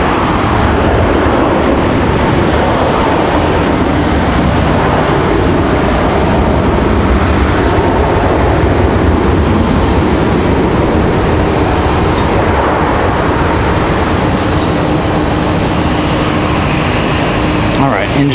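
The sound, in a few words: Boeing 777 jet departing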